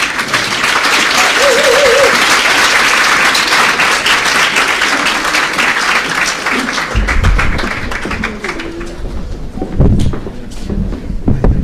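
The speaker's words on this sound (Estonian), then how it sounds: "palun aplausi meie väiksele kundile" Audience applause at a school graduation ceremony held in February: dense, loud clapping from a large crowd fills the room for about seven seconds, then thins and fades as lower sounds take over.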